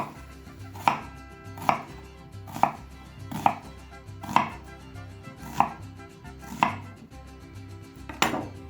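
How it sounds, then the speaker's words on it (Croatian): A knife chops through an onion on a board for bacon stew with mashed potatoes, eight sharp, evenly spaced cuts close by with no talk. "Pa ćemo isjeckati ovaj crni luk ovako na ova rebarca"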